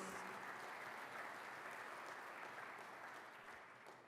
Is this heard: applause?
yes